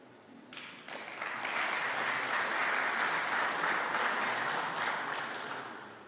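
A sizable audience at a speech breaks into applause that swells quickly and holds as a broad, even wash of clapping, heard from some distance and easing slightly at the end.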